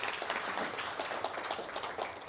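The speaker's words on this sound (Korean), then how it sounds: "저희 국회의원 이광재 의원님께 한번 박수로 맞이해주시기 바랍니다." An audience applauds to welcome lecturer Lee Kwang-jae, National Assembly member, at a Seoul National University forum lecture; dense, steady clapping fills the room throughout without a break.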